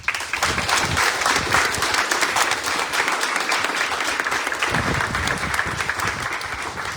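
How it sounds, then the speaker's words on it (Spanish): An audience at a book presentation breaks into sustained, dense applause, many hands clapping together at full strength for several seconds before easing slightly toward the end, with no talking over it. "con un fuerte aplauso."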